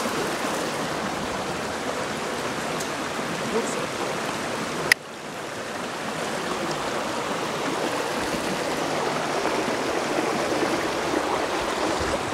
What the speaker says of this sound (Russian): Переход через реку Хибар.